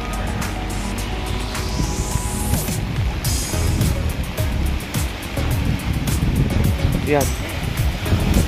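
A bus drives through a flooded road during heavy rain in Abu Dhabi, sending up a steady rush of churning, splashing floodwater close by, while a person talks over it.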